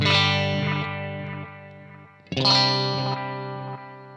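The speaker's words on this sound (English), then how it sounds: "the third echo here is the V5, which is a simple analog delay" Two strummed electric guitar chords ring out through an XVive V5 analog delay pedal, each trailing off in soft, slightly darkened repeating echoes, clear and close.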